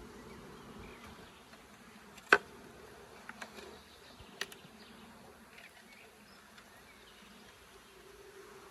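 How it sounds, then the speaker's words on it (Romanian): Honeybees on frames of a young split colony hive being inspected, a soft steady low buzz close by with a few brief knocks and handling clicks, no talking. "Poftim cât albină pe ramă se vede."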